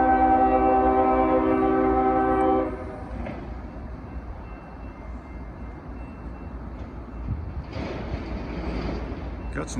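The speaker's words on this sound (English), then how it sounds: "Looks like it might be a double stack intermodal train." A double-stack intermodal freight train passes close by on street-running track. A loud horn blast opens, then gives way to a sustained rumble of rolling cars, and a voice speaks over it.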